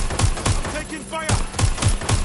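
Gunfire in the video game Watch Dogs Legion rattles in quick, regular automatic bursts, loud and close, with a brief shouted voice in a lull.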